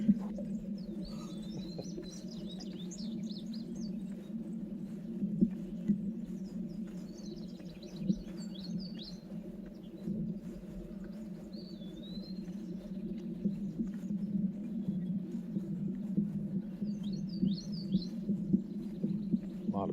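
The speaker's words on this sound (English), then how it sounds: "bird song." Birds chirp in short, high twittering bursts that come and go over a steady low hum of outdoor background noise, faint and somewhat distant.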